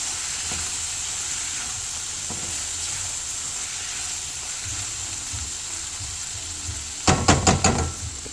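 Ridge gourd frying in a pan with a continuous close sizzle, ending in a quick burst of clattering knocks as the slices are stirred.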